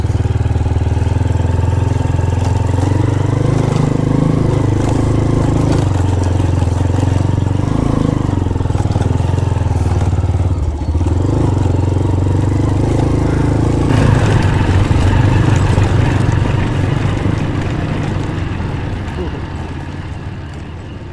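Motorcycle engine droning steadily while riding an off-road trail in Phrilla Forest in the Margalla Hills, loud and close throughout, with the pitch shifting slightly as the throttle changes and the sound fading toward the end.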